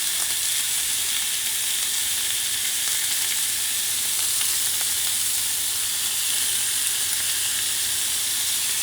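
Steak sizzles and fries in a hot pan with steady, continuous crackling and hissing at close range, with no voices over it.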